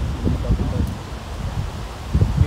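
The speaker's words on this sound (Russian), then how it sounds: "Ну, какой ветер." Wind gusts buffet an outdoor cricket ground with a low rumble, rising and falling, and leaves rustle faintly underneath.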